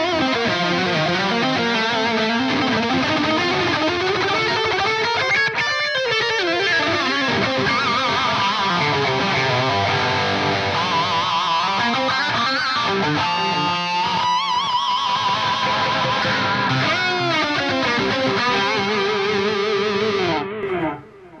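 Distorted high-gain electric guitar through an Axe-Fx III Atomica High amp model, a modded Marshall tone, plays sustained chords and notes, with delay repeats trailing behind them; loud and continuous, alone.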